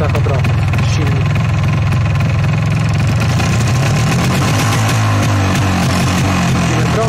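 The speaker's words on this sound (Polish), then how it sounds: "Teraz sobie przytrzymajmy przy 3000 obrotów silnik." An MZ ETZ250 two-stroke motorcycle engine is held at about 3000 rpm during a charging test, a loud steady buzzing drone with a slight shift in pitch midway.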